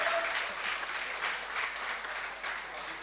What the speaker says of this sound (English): let's give another round of applause to Dr. Cornelius Peterson